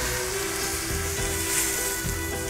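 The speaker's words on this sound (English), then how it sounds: "You can hear it kind of sizzle." Steady sizzling of saffron broth poured into a hot paella pan, a continuous bright crackle with a low hum underneath and no voices.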